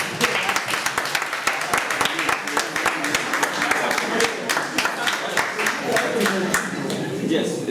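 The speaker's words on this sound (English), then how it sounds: "Can you give me an applause?" Audience applause fills a hall at a presentation on nuclear power in Ghana, steady scattered clapping sustained throughout at moderate loudness, with a voice faintly audible beneath it.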